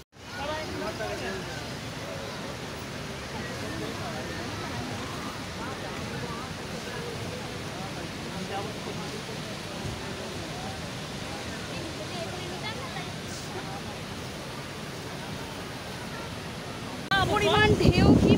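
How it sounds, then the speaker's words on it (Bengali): Sea waves at Digha beach wash in as a steady, loud broadband roar that holds for the whole stretch, with some wind noise and a heavier surge of surf near the end. "পরিমাণ ঢেউ, কি পরিমাণ ঢেউ"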